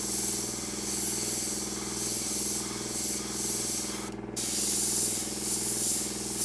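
Steady airbrush hiss with a 0.3 needle spraying thick Mission Model polyurethane-based paint, continuous and close, with one brief cutoff near the end before the spray resumes.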